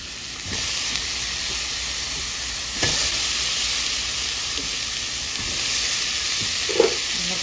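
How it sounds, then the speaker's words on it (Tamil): Cauliflower stir-fried with coriander powder and cinnamon-clove spice powder for a Coimbatore-style kuruma gives a steady, close sizzle and hiss, with a few soft stirring knocks and no voices. "மல்லிப்பொடி, பட்டைக்கிராம்பு பொடி எல்லாம் போட்டு நல்லா இது காலிஃப்ளவர் போட்டு நல்லா திருப்பி வேணும்."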